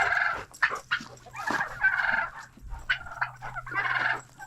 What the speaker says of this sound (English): There's the other chickens. They're all doing pretty good. Like I said, they're ready for breakfast.